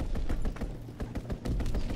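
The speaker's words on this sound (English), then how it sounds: "Pilot inbound, strafing the target." Rapid bursts of aircraft strafing gunfire in an online military shooter game, a dense run of sharp cracks and thuds over about two seconds with no talk.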